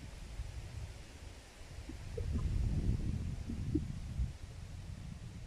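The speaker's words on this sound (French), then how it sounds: "désolé pour le vent, il y a pas mal de vent aujourd'hui" Wind buffets the microphone outdoors at a fishing spot in the Puy-de-Dôme, a low, faint, continuous rumbling rush that swells slightly midway, with no talking.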